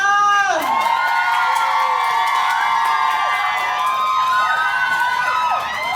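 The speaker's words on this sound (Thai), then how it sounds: "ขอเสียงปรบมือ ดังๆและกรีดด้วยค่ะ" Fans at a Thai fansign event scream loudly in a sustained high-pitched chorus of shrieks and whoops, continuous and near for six seconds, with little clapping evident.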